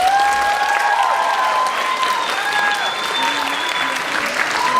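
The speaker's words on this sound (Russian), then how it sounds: "Аплодисменты!" Audience applause at a university contest, a continuous crowd clapping with a few whistles or cheers rising over it, steady and fairly loud throughout.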